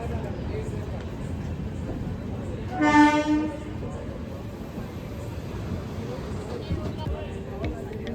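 Train 16572 bound for Yesvantpur pulls into a railway station, its horn sounding one short, loud blast amid steady rumbling platform noise, with faint voices in the background.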